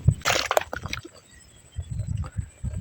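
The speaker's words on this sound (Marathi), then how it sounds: "तर त्यांना पाण्यात बुडूया" Freshly caught crabs plunged into water, opening with a burst of splashing and sloshing, then quieter wet shuffling and a few more sloshes close by.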